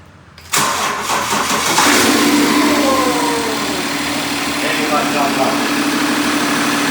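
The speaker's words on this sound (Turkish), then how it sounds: "Marş yapacağız." A BMW 530d with an N57 diesel engine and a weak charging alternator cranks briefly, catches, and settles into a loud, steady, close-up diesel idle.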